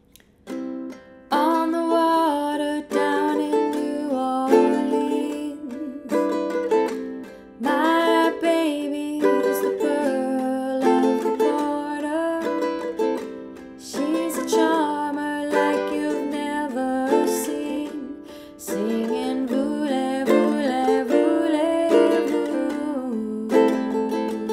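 Guitar with a sung verse, strummed chords ringing steadily beneath a melodic vocal line for over twenty seconds, close and clear with brief pauses between phrases.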